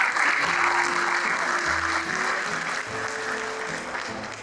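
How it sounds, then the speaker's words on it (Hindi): Audience at a mushaira poetry gathering in Muscat, Oman, clapping steadily in a sustained round of applause, dense and fairly close, with faint voices mixed in. "वसी भाई के लिए एक दफा भरपूर तालियां"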